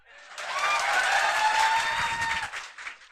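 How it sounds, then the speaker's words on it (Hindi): Audience applause in a class: steady clapping with crowd noise that rises, holds for about two seconds and then fades, with faint voices mixed in. "एक बार दोनों के लिए जोर से ताली बजा दीजिए तो।"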